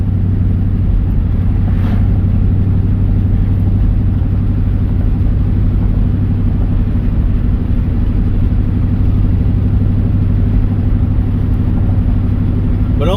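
A car engine drones steadily after shifting into fifth gear on the road, a loud continuous low hum with road and wind noise, settling into an even overdrive cruise with no talk.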